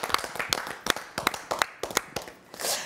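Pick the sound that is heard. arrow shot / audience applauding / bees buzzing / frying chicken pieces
audience applauding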